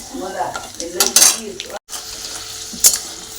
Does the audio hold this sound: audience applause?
no